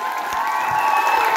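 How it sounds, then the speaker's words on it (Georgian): A live audience applauds and cheers at a charity show for a young boy named Dachi, a steady, dense wash of clapping and crowd noise that holds evenly without a break. "მოდი აპლოდისმენტები ჭირდება ნამდვილად"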